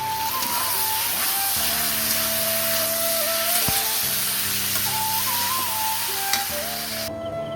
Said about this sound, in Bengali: চাল ডাল সব দিয়ে ভালোভাবে কষিয়ে নেব।